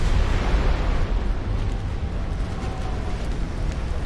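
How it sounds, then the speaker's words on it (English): A big ammunition detonation aboard a warship in the naval battle game Ultimate Admiral: Dreadnoughts, heard as a sustained, loud, rumbling roar of low-frequency explosion noise that persists steadily without any talk. "Another big ammo detonation."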